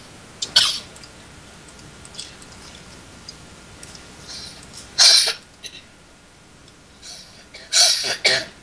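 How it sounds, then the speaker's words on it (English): A person coughs in the background during Minecraft play, with several short, faint, scattered bursts, two stronger ones mid-clip and near the end, over a quiet steady hiss. "coughing in the background"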